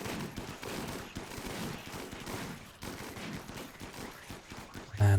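Rapid bursts of gunfire from a combat scene in the video game Rimworld Odyssey rattle on continuously and densely, at a moderate level.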